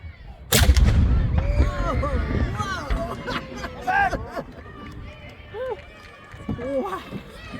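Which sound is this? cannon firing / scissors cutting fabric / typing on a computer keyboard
cannon firing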